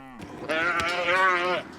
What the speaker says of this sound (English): Chasing cows in the rugged mountains of Idaho.